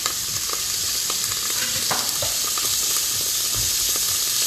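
Chicken for chicken piccata sizzles and fries steadily in a hot pan, a continuous crackling hiss with small pops and stirring scrapes throughout, close and fairly loud with no talking.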